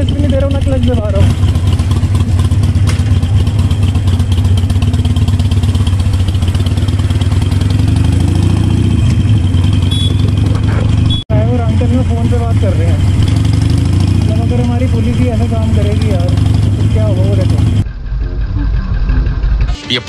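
A motorcycle engine idles with the clutch pressed, a loud, close, steady low drone with some clatter that cuts briefly and drops near the end, as someone speaks over it.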